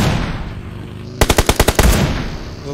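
Rapid automatic gunfire in the video game PUBG, a loud close burst of about eight evenly spaced shots lasting under a second, with game ambience before and after and no talk.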